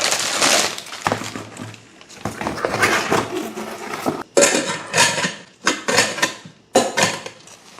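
A pressure cooker is unpacked and handled, giving a string of sharp metallic clanks, knocks and rattles in irregular bursts, loud and close, with short pauses between them.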